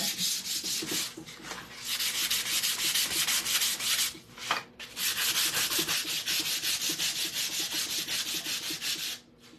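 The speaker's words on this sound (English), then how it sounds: "So let's just get the sandpaper and rough it up a little bit." Sandpaper is rubbed by hand over a surface in long, steady strokes, a loud, close, continuous rasping broken by a few short pauses, with no talking.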